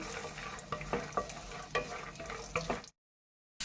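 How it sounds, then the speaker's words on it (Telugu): Peanuts frying in hot oil in a pan give a steady, close sizzle, broken by several sharp scrapes and clinks as they are stirred, before the sound cuts off abruptly. "ఆయిల్ అయితే హీట్ ఎక్కిందండి ముందుగా మనం వేర్చిన గుళ్ళు అయితే చక్కగా వేయించుకోవాలి"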